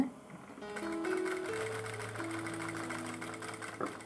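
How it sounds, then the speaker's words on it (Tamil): A sewing machine runs in a steady continuous whir while stitching along the edge of a blouse neck, a close mechanical hum with rapid rhythmic needle beats and no pauses. "நல்லா அப்படி எட்ஜில் தைங்க"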